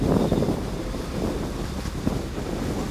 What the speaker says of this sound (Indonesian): Tiba-tiba angin datang dengan kencang Mas Indra.